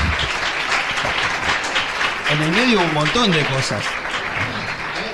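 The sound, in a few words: audience applause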